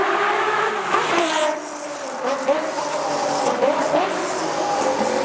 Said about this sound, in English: It is powered by the 670-2 BMW V12 engine that produces a staggering 627 horsepower.